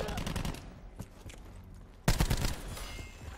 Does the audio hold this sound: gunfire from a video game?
yes